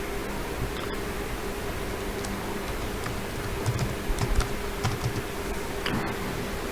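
Light typing on a computer keyboard, a short scattered run of soft key clicks over steady background hiss, moderately quiet and without talk.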